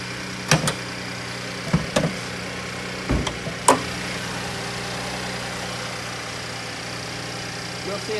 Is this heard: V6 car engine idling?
yes